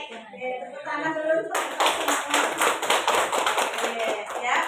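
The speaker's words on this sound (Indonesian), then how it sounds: "Tepuk tangan dulu." A group bursts into hand-clapping applause after a short spoken phrase, a dense, lively patter of many hands that continues steadily to the end.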